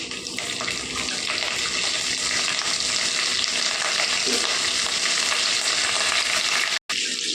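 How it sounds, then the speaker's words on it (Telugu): Dried red chillies and curry leaves fry in hot oil with cumin and mustard seeds, a loud, dense, hissing sizzle that holds steady, then cuts out for a moment before resuming. "కరివేపాకు వేగిందండి"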